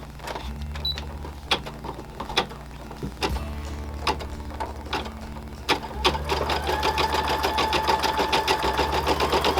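Embroidery machine stitching out felt play food shrimp in the hoop, a rapid mechanical needle chatter with periodic thunks that grows louder and denser toward the end.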